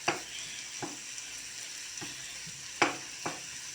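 Mushrooms sautéing with onion and egg in a pan give a steady soft sizzle, broken by several sharp stirring scrapes spaced about a second apart, all close up and without talk.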